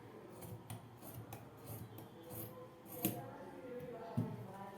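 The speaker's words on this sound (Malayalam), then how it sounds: "ഇതൊന്ന് ഇതേ രീതിയിലൊന്ന് കട്ട് ചെയ്തെടുക്കാം" Scissors snipping cloth while cutting out a frock-style nighty, a quiet series of repeated rasping cuts with a couple of sharper clacks, close by and faint.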